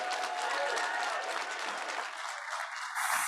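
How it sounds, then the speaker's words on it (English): Conference audience applauding to welcome a speaker, a full, close burst of clapping that eases slightly before a brief voice and a final swell. "the way to make him feel welcome is by a thunderous round of applause"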